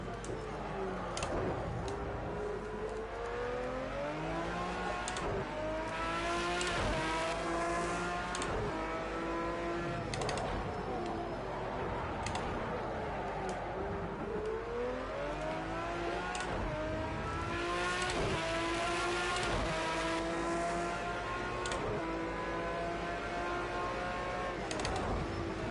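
Aston Martin GT3 race car engine in a racing game at Donington, revving hard through rising and falling gear changes, loud and continuous with steady upshifts and downshifts throughout.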